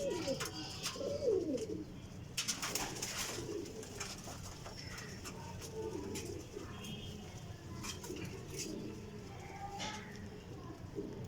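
Pigeons cooing softly amid a busy outdoor bustle at a pigeon market, with low rolling coos repeating over background chatter and scattered clicks.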